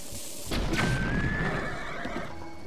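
A horse in the video game Zelda: Breath of the Wild gives a single loud whinny over a low rumbling game background, lasting about a second.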